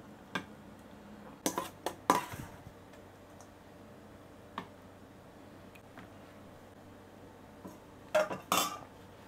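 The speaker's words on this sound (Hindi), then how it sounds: "तो चलिए अब इसको एक प्लेट में निकालते हैं" Restaurant-style soya malai chaap being served from a pan onto a plate: scattered close metallic clinks and scrapes of a spoon against cookware, with quiet gaps between and a cluster of knocks near the end.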